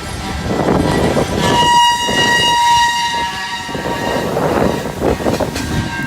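A ballast train rolls past at close range while its K5LLA horn sounds in loud sustained blasts over the steady rumble and clatter of the cars.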